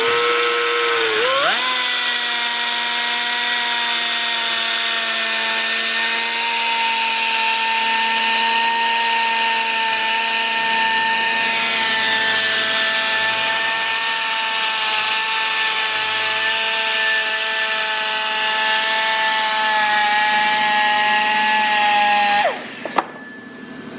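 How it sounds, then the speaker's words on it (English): A power drill spinning in reverse whines steadily at high speed for a long stretch while cleaning up snowmobile clutch drums, its pitch shifting slightly, then cuts off abruptly near the end. "I try to move smoothly as I spin the drill. I spin the drill in reverse"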